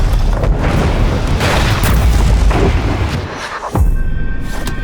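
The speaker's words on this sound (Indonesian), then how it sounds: "Kemudian muncullah sebuah ledakan di tengah kota yang menimpa truk mereka." A loud boom from a city explosion slamming into a truck in the Devil May Cry game, broadband rumble filling the clip, dipping briefly near the end before a second burst of blast noise.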